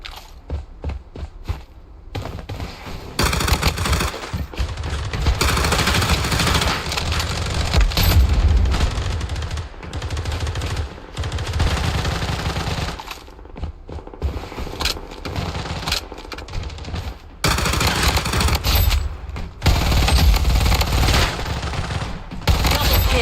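Rapid bursts of gunfire rattle almost without pause through a Fallen City Brawl match, automatic fire and booming blasts stacking close and loud, with short quiet gaps and a faint voice now and then.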